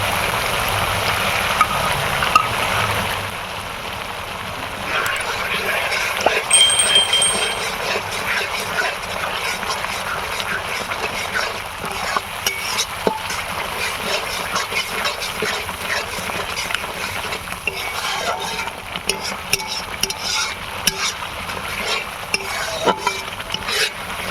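Sour yogurt and a ground spice mix go into a pan for a Bhola fish masala curry, bringing a sustained close sizzle with scraping and clinking from stirring that runs throughout.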